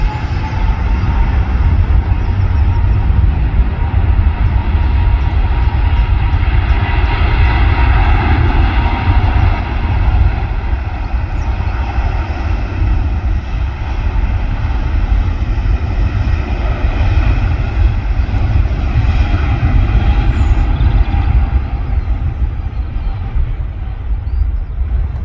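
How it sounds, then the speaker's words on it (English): A Singapore Airlines Airbus A350 takes off at Manchester Airport, a loud, continuous jet-engine roar that holds steady throughout, with no voices. "So we're going to get back-to-back A350 takeoffs."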